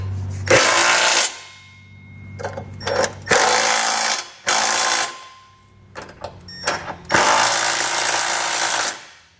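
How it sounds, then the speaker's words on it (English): Power tool with a 3/4 inch socket driving trailer hitch bolts on a 2020 GMC Terrain: four loud, close bursts of whirring and buzzing, each lasting about a second, with short pauses and lighter stuttering pulses between them. "we'll come back with a 3/4 inch socket and tighten it all out."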